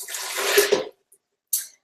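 Water poured into a container while making salad dressing gives a short splashing stream lasting under a second, then a brief second trickle after a pause, close and fairly loud.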